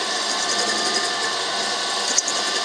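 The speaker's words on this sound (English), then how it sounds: "I'm just going to do a very slow drill down through the end" A steady, loud machine whine with a high buzzing drone as a drill bores slowly and continuously down through the end of a metal bar, with a brief click near the end.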